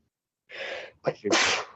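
Two sneezes close together: a drawn-out first burst, a brief catch of breath, then a louder second sneeze, heard alone and close.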